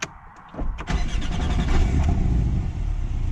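A 2021 Porsche 718 Cayman GTS starts with a twist-style ignition, a short whir of the starter giving way to a deep, rumbling idle that swells quickly and stays loud and close.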